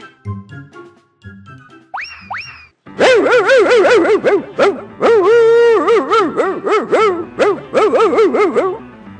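A dog yips and whines in a rapid series of high, wavering barks, loud and close, after some softer scattered sounds.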